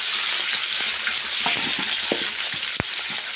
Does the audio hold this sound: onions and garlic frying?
yes